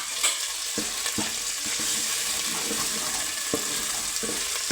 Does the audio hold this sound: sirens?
no